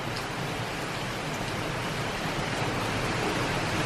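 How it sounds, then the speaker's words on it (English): Steady, heavy hurricane rain pours continuously, a dense even hiss with no break or variation. "Look at that rain."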